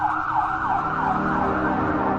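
An ambulance siren wails steadily and continuously in a rising-falling pattern, fairly close and alone.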